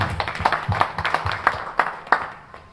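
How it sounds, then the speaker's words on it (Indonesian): An audience claps at an anniversary celebration for a community organization. The claps come as sparse, uneven individual claps at a moderate level, fairly close, and they thin out toward the end. "Kita tepuk tangan semua."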